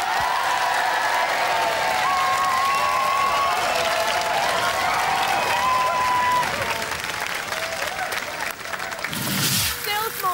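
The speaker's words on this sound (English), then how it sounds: "Ladies and gentlemen, round of applause for Splinter!" A television studio audience at a robot combat show applauds and cheers a competing robot, loud continuous clapping with whistles and tonal sounds over it, fading near the end.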